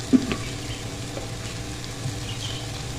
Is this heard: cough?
no